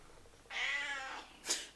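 A house cat meows once in a long, drawn-out call, fairly close, then gives a short sharp second sound, with no one speaking.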